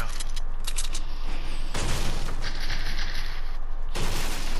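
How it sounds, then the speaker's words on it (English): Gunfire in the Fortnite video game, rapid rattling bursts of shots in separate volleys, loud and close, with mechanical clicks between them and no talk over it. "Someone's shooting at me."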